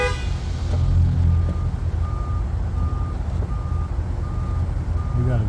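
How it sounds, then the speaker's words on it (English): A backing vehicle's reversal alarm beeps steadily at a distance, a repeating single-tone pulse roughly every half second over loud low engine rumble and outdoor noise. "We got a vehicle over here backing and moving forward and backing. That's where the noise is coming from."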